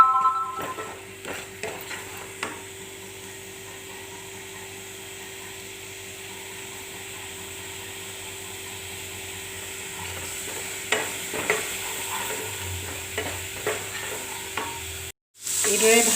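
Dry fish with red chilli powder fries in a pan, giving a low steady sizzle broken by clusters of scraping and tapping stirs at the start and near the end, then a brief cutout.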